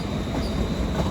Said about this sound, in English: Incoming now will be a terminating London Northwestern Railway service from Milton Keynes Central